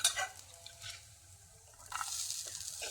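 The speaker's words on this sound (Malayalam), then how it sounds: "ഒന്നുകൂടി ഒന്ന് വഴറ്റി കൊടുക്കാം" Grated coconut and cooked lentils being sautéed together in a pan for jackfruit-stuffed sweet fritters, giving a soft sizzle with scraping stirs, brief bursts near the start and a steadier frying hiss later on.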